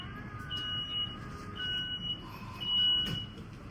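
A city bus in New Zealand sounds its door-closing warning with a string of repeated high electronic beeps over engine rumble and traffic noise.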